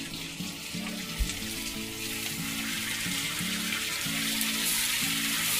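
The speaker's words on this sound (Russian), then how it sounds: "Добавляем квашеную капусту." Sauerkraut tipped into a pan of frying vegetables sets off a steady, loud sizzle and hiss over a soft tonal background.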